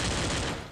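A rapid burst of submachine gun fire in the video game Free Fire rattles out for under a second, loud and dense, fading quickly.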